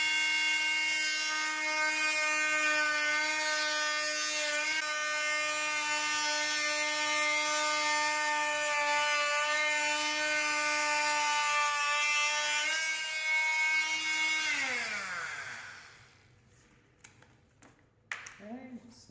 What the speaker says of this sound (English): We're going to use a Dremel to actually cut it.